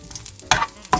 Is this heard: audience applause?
no